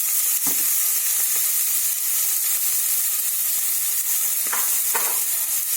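Beans with cumin being lightly sautéed in a pan: a constant soft sizzle with a few sharp scrapes of a spoon against the pan near the start and end, no talking.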